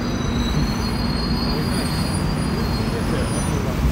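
Inside or beside a train at a station, a steady loud rumble of rolling wheels and carriage noise fills the whole stretch, with faint high squealing tones running throughout.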